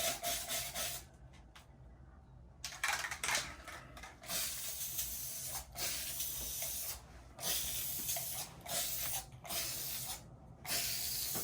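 Repeated hissing bursts of a spray paint can, on and off in short and longer sprays with brief gaps between them, used on an epoxy wood grain sample for a 1959 Chevy truck bed floor.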